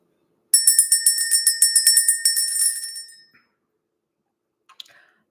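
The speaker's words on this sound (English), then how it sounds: "Let's ring the bell." A small bell is rung in a rapid run of about a dozen bright, close strikes that ring out and fade over a few seconds, followed by one faint clink.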